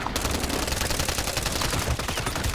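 Rapid automatic gunfire in Call of Duty Warzone, aimed at players from the prison: a dense, loud, continuous burst of shots with no talk over it.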